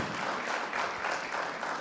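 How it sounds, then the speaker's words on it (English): A conference audience at an ICSI meeting claps for its president, a brief, dense burst of many hands filling the room evenly, with no voices over it. "A round of applause to our president as well."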